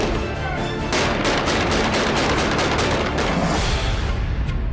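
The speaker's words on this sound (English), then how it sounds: "Shooting live fire scenes is unlike anything you'll ever do." Sustained heavy gunfire from real bullets on a military film set, a dense rolling fusillade of rapid overlapping shots that stays loud and constant throughout.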